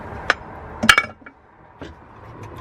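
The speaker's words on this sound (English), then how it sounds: "I guess my brother's hammer" Sharp metallic clinks and knocks ring out as a hammer is handled among car parts in an Acura Integra, a few close bright hits spaced apart with quiet gaps between.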